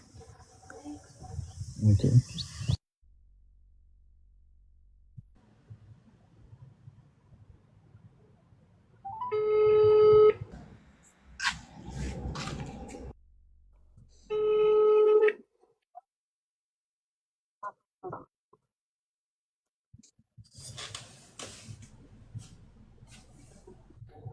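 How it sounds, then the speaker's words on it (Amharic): A telephone call rings out with two separate bursts of ringing tone, a few seconds apart, between stretches of quiet and voices talking. "ከሰራልኝ ነው ስልካቸው እንግዲህ ሞክረው"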